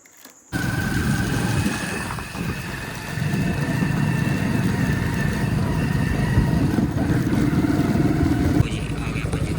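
A motorcycle engine idles steadily nearby, a continuous low rumble that runs throughout after a brief quiet start.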